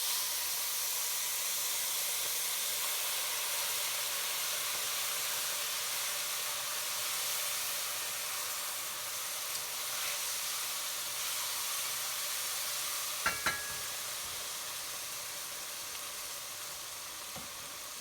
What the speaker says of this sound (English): And now we'll be adding water to our sev, boiling water.